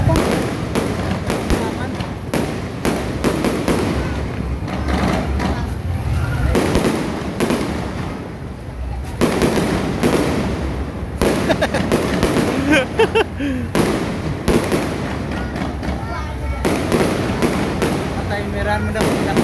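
A festival fireworks display in Pototan plaza sends out repeated booming bursts and crackles in irregular clusters, loud and sustained, while people talk and call out nearby.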